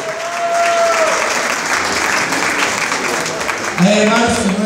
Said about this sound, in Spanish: un aplauso a todos los que nos visitan.